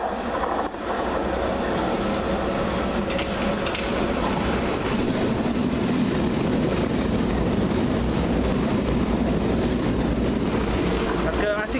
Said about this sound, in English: Here's a Piccadilly going to Cockfosters.